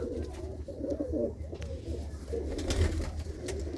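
Pigeon coos, the bird having been bought by the keeper, repeat as low rounded calls through a steady backyard ambience, fairly close and continuous with a few brief clicks and knocks.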